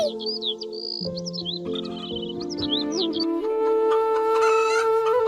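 Cartoon hens clucking in a Bangla fox cartoon, a run of high chirpy clucks and calls over a steady tonal music bed, fairly close and continuous.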